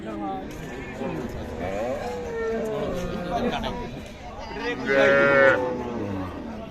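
A young bull calf with four teeth at the rural Ambari cattle market in Dinajpur lows once, clearly and fairly close, amid continuous crowd chatter and nearby talking.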